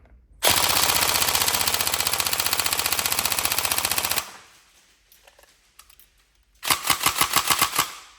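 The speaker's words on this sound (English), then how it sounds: "There you go, got a nice kick to it, good rate of fire, and really sharp, snappy trigger response." A Tokyo Marui 416 Delta Tan NGRS airsoft rifle fires a long, loud, rapid full-auto burst of about four seconds, goes quiet, then fires a second shorter burst near the end.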